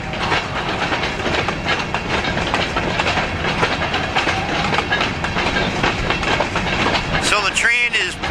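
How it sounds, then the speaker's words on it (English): A freight train passes nearby with steady rumbling and rhythmic clickety-clack of wheels over rail joints, loud and continuous, with a short squealing sweep near the end. "So the train is passing Alter Meadow right now."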